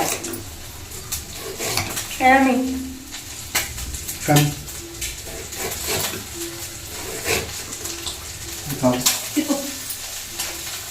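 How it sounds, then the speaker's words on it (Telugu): Raw chopped onions drop into a pan of frying prawns and get stirred, giving a sizzle with scraping and clattering spoon strokes, while someone talks over the cooking. "ఇప్పుడు అవి ఫ్రై అయిపోయి కదా, దాంట్లో ఆనియన్స్ అయితే ఇట్లా పచ్చిగా కోసి వేసేస్తా"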